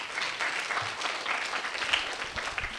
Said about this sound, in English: Can we get a round of applause for the fantastic work that these guys have all done?